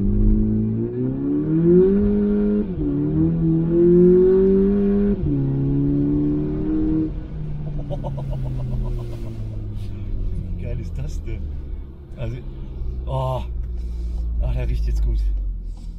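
A new turbocharged leased car accelerates, its engine note rising through a gear, dropping, then climbing again as it revs harder, heard close from inside the car and loud over road rumble.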